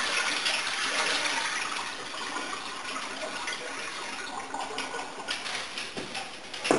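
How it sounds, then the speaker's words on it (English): Rinse water is poured out of a bowl of organic kale into a sink, giving a close, steady gushing splash that runs for several seconds. "Dump out that rinse water."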